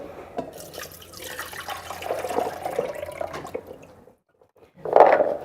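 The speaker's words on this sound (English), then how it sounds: "So we'll just get rid of this water here." Soaking water is poured off almonds at a sink during a vegetarian cooking demonstration. A steady splashing pour runs for about four seconds, pauses briefly, then ends in a short louder splash.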